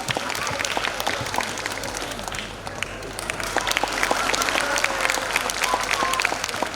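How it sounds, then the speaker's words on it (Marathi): An audience at an abacus academy's national-level competition award function claps steadily, a dense, continuous wash of applause that stays loud and even from start to finish. "आयोजकांसाठी टाळ्या वाजवा."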